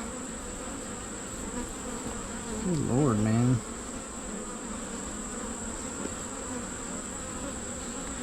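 Honey bees buzz around an open hive of a small colony, a steady close drone that continues throughout. Someone speaks briefly partway through.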